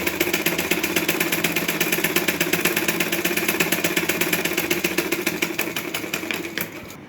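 An electric sewing machine runs a thick line of stitching along the lining of a blouse, giving a fast, steady mechanical rattle that holds close and loud for about seven seconds before slowing near the end.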